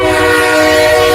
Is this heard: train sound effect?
yes